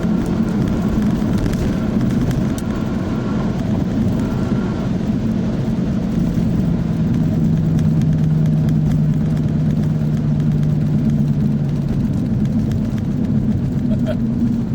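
An Audi RS3 engine drones steadily from inside the car while racing a BMW 320D, a constant mid-pitched hum under ongoing speech.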